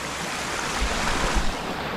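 Rainwater running through a forest near Srisailam after a night of rain, a steady rushing wash of flowing water with soft low rumbles, even and continuous across the brief stretch.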